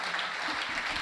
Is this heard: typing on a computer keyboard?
no